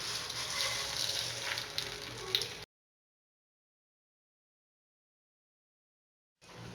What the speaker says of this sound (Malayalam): മെൽറ്റായ ബട്ടറിലോട്ട് ഇനി വെർമിസെല്ലി ചേർക്കാം